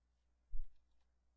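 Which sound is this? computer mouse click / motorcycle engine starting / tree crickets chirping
computer mouse click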